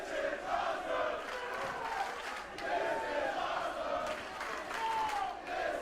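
A wrestling crowd roars and cheers at an independent pro wrestling show, a loud, sustained wall of voices with swelling shouts rising and falling, heard alone without commentary.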